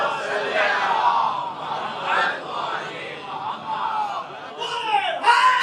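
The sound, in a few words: crowd chanting a religious slogan in response to the speaker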